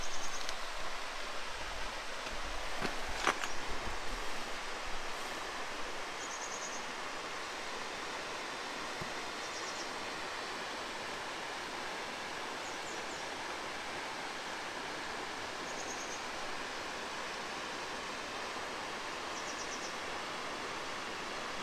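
Steady broadband roar of a waterfall in Nishizawa Valley, Japan, heard from some distance as an even, continuous rush, with faint high bird chirps recurring above it and no talk.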